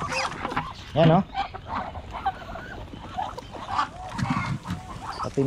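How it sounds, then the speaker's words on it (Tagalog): Chickens on a Filipino farm beside a fishpond, clucking and calling in short bursts near and far, mixed with other fowl and ambient yard noise while a person talks. "Pati manok."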